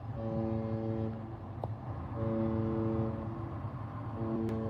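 A deep cruise ship horn sounds in long low blasts, three of them separated by short gaps, heavy and droning over a rumbling background, in Long Beach.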